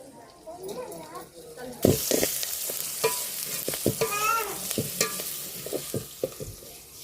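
Onion, green chilli and chicken pieces fry in a pan over a wood-fired stove while being stirred, a steady broadband sizzle with repeated scraping strokes; a voice talks over it.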